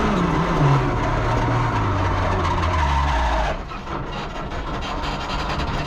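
A damaged 380HP Mitsubishi Mirage rally car drives on after a rough landing, its engine droning loud and steady with a falling pitch, then dropping to a quieter, rougher tone partway through.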